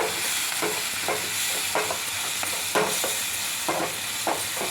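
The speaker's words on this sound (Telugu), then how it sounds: "మనం నూరి పెట్టుకున్న ముద్ద కూడా ఇందులో వేసి కొంచెం గోలాలి" Ground spice paste being stirred into a sizzling fish curry base in a pan, a steady frying hiss with repeated rhythmic scrapes of the spoon every half second or so, close and without talk.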